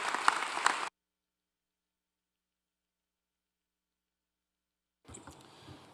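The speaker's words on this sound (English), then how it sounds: "So let's give the Sands Institute a great round of applause" Audience applause at a governors' summer meeting plenary session, a burst of dense clapping that lasts under a second and cuts off abruptly, followed by silence and then faint room noise.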